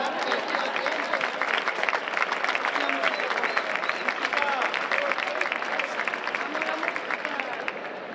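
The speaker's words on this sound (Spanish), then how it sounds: "un aplauso y la música" A crowd claps continuously and evenly for several seconds at a cocktail demonstration event, a dense, bright patter of many hands with a faint murmur beneath.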